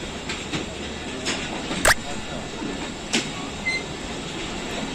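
The Rehman Baba Express, a Pakistan Railways train, pulls out of Wazirabad station with a steady rumble of rolling stock and occasional sharp clanks and squeals, heard from on board at close range.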